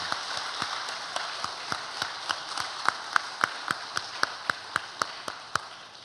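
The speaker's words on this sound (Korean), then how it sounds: "큰 박수로 한번 격려의 박수를 보내주시기 바랍니다" Church congregation clapping in encouragement, heard as steady, evenly spaced sharp claps in a regular rhythm, moderately quiet and slightly distant in a reverberant hall.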